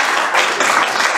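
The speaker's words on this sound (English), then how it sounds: "Miss Irma, can we give Miss Irma a round of applause?" A church congregation applauds in a dense, continuous wash of many hands clapping at once, loud and sustained throughout the short moment.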